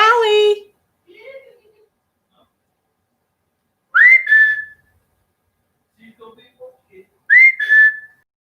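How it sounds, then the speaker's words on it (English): A person whistles to call a dog indoors, two loud close rising-then-level whistles separated by quiet, following a short spoken word at the start. "She usually will come to a whistle."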